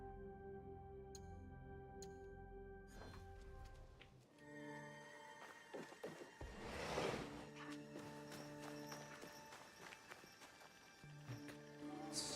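Horse hooves clip-clop in the video game Assassin's Creed Shadows, a steady rhythmic trotting over layered game music and ambience, moderately near, with no talking.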